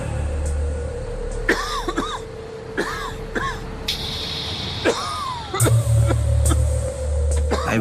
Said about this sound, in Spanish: Me costaba respirar y empecé a toser y a toser y a toser